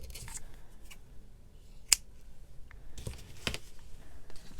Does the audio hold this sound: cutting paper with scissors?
yes